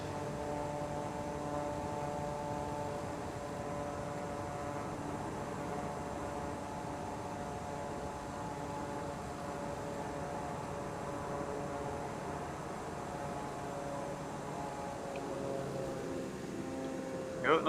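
Steady aircraft engine drone from Microsoft Flight Simulator 2020, a constant tonal hum with layered harmonics after landing, holding level throughout with a brief rise at the very end.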